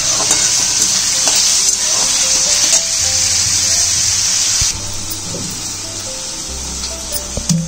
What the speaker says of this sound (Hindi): हे फ्राय करून घ्यायचं आपल्याला चांगलं